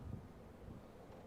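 Faint, steady wind rumbling against the microphone outdoors, with a low broadband hiss and no other distinct sounds.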